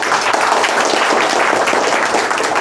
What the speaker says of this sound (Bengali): সকলকে আমি বলছি একটা জোরসে তালিয়া দেওয়ার জন্য